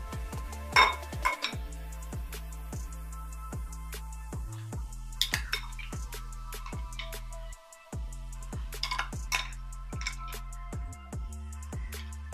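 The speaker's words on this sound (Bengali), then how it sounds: "ভালো করে নেড়ে নেব।" Metal utensil repeatedly scraping and clinking against a pan while stirring chana paneer masala curry, in a steady rhythm, with a constant humming tone underneath.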